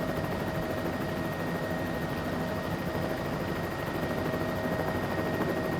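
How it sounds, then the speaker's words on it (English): A Bell 206L3 helicopter in Microsoft Flight Simulator 2024 drones steadily in flight, a constant broadband rotor and turbine roar with a faint high whine holding level throughout. "when the helicopter starts flying, it's not so bad"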